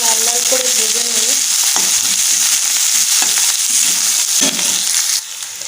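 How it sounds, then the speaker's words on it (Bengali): Chopped onion, garlic cloves, green chili and melon seeds frying in oil, a loud, dense sizzle right up close with occasional scraping stirs and a brief low rattle early on, no voices, easing slightly just before the end. "এর মধ্যে পেঁয়াজ কুচি, রসুনের কোয়া, কাঁচা লঙ্কা আর চাল মগজ একটু হালকা লাল লাল করে ভেজে নেব।"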